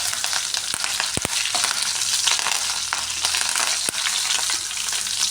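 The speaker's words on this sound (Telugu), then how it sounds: "ఇలా తాలింపంతా మంచిగా వేగాలి, దూరగా వేయించుకోవాలి." Mustard seeds, cumin, dried red chillies and fresh curry leaves fry in hot oil for a tempering, a steady dense sizzle with a few sharp pops and crackles, close and loud with no talking.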